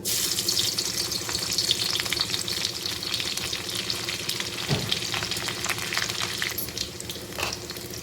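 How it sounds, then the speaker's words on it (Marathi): Crushed garlic sizzles and spatters in a generous pour of oil on a tawa, a close, continuous frying hiss with faint stirring clinks and a brief watery splash partway through. "तेल थोडस जास्त टाका नेहमीपेक्षा सहा लसूण टेचलेल्या"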